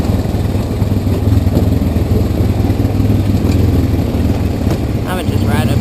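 Yamaha Kodiak 700 and Honda Rancher ATV engines idle close by on the Hatfield McCoy trails, a steady low rumbling throb under people talking.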